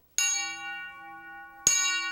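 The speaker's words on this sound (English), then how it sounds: "I take my mallet right here and just simply tap it. And I get a very nice sound to this." A long metal tube chime of wider diameter, about five feet long, struck twice with a mallet: each hit rings out loud and bright, and the first strike sustains a shimmering tone until the second lands.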